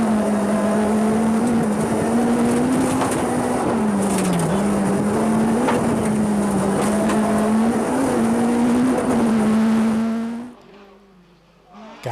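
A rally car at full throttle on a fast-flowing stage of the 2010 Donegal International Rally, its engine holding a loud, steady high-rev drone close by for about ten seconds before suddenly dropping away.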